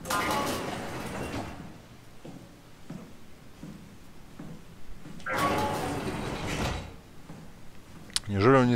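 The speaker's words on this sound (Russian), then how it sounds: "Неужели он не слышит, как двери закрываются, открываются?" Heavy doors sliding open and shut in the sci-fi horror game SOMA, two long mechanical swishes with a rumbling hiss, moderately loud, separated by quieter ambient hum and ending in a sharp clank.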